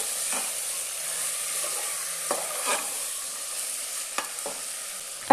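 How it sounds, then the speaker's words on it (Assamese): Goat mutton fries in a pan over a high gas flame for a curry, a steady soft sizzle with occasional scraping stirs of a spoon, no voices. "এতিয়া মই গেছটো হাই ফ্লেমত দি পেলাই এনেকৈ 5 মিনিটৰ কাৰণে মাংসখিনি ভাজি ল'ম"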